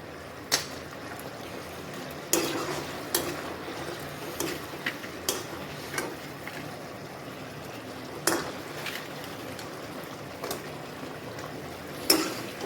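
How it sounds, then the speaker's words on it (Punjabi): Fried bread pieces are stirred into a thick gravy in a pan, giving sparse close clinks and scrapes of a spoon against metal at irregular intervals over a quiet, faintly bubbling background. "ਚੰਗੀ ਤਰ੍ਹਾਂ ਮਿਕਸ ਕਰਾਂਗੇ"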